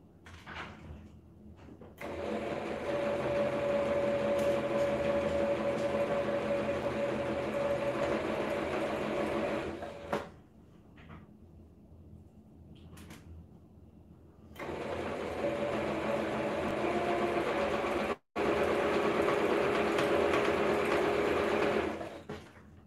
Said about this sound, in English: those regular butterfly sewing machines